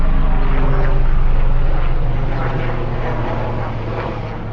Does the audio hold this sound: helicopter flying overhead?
yes